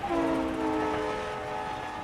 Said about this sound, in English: I'm on the train to Ipoh